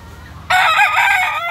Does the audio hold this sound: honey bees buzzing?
no